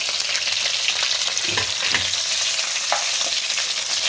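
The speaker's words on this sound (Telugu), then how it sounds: "ఇందులో కరివేపాకు, అలాగే కట్ చేసుకున్న ఉల్లిపాయ వేసుకుంటాం." Curry leaves and chopped onion frying in hot oil in a pan with cumin and dals for an ivy gourd fry. A steady, bright sizzle and crackle runs throughout, with a couple of soft stirring scrapes in the middle.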